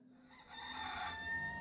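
Rooster crowing in the video game Bear & Breakfast, a single drawn-out cock-a-doodle-doo ringing out clearly and steadily for over a second, with no talk over it.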